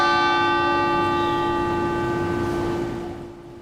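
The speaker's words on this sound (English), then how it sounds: "That bell rang once every minute for the 21 victims." A single church bell strike rings out at a memorial for shooting victims, its bright tonal hum sustaining and slowly fading away with no voices present.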